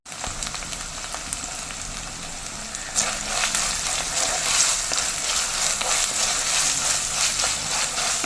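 Green chilies, onions and curry leaves fry in a pan for a Kerala-style curry, giving a steady close sizzle that grows brighter and louder partway through, with no talking.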